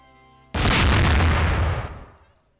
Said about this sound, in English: If you're set on fire with the Spy-cicle out, pyro just explodes.